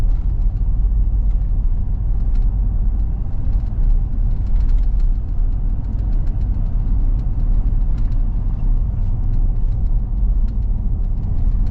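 A 2025 Ford F-350 Super Duty dually with the high-output engine idles through traffic, a deep continuous rumble with steady low throb heard from inside the cab, no talk.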